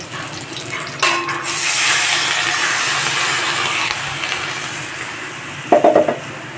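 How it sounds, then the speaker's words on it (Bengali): Fried green mangoes simmer in water in a pot for a sour lentil dal: a steady steaming hiss with bursts of bubbling, and a few metallic pot clanks near the start and end. "আমগুলো ভাজা হয়ে গেছে এখন জল দিয়ে সিদ্ধ করে নেব"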